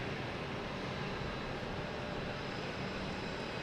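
An American Airlines airliner arrives at Boston Logan Airport, giving a steady, fairly faint broadband engine rumble with no one speaking.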